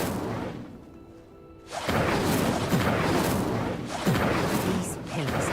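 An Incendio fire spell ignites a pyre in Hogwarts Legacy: after a quiet stretch, a sudden whooshing burst of flame swells into a loud, sustained roar, with speech over it.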